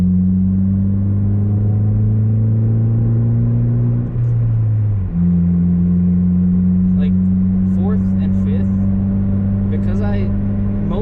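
A manual transmission car engine drones steadily while driving, with a brief pitch drop and recovery near the middle as the engine shifts, then a low even hum; someone talks over it near the end.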